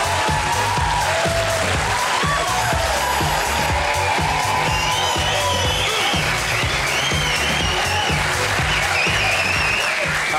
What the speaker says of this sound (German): Ich find's gar nicht so gut, dass ihr jetzt applaudiert